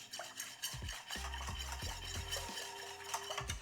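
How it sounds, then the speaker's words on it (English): A flan mixture of condensed milk and vanilla is stirred in a bowl, giving a quiet, continuous swishing with soft rhythmic knocks and taps of the utensil against the side, close up and faint. "Give it a good mix."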